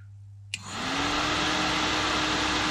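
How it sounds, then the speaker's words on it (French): An electric fan clicks on and its motor ramps up within a fraction of a second into a loud, steady whooshing hum that holds to the end. "Le ventilo qui est là."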